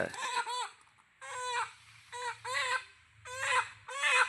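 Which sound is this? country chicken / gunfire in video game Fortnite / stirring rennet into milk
country chicken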